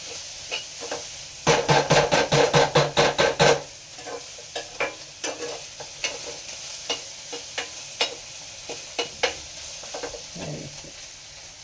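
Red curry and cabbage cooking in a pan on a gas stove, a soft sizzle underneath a quick run of about a dozen sharp spatula scrapes and stirs, then slower scattered stirring knocks.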